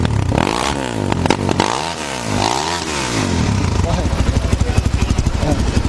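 A Cross Fire motorcycle with a loud company-fitted exhaust roars close up, its engine sweeping up and down before settling into a rapid throbbing idle, with a voice talking over it early on.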